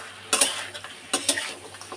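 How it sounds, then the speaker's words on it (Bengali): Fish head curry being stirred in a wok held steady with tongs, with two bursts of metal scraping and clinking against the pan over a faint background hum. "এই মাছের মাথা দিয়ে এবার আমি রান্নাটাকে কষাবো।"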